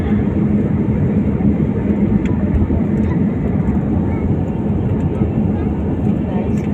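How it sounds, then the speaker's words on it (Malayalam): An airplane takes off with a loud, steady engine roar that holds constant throughout, heard close by with no pauses. "നമ്മുടെ ഫ്ലൈറ്റ് ഇതാ പൊങ്ങി ഗായ്സ്."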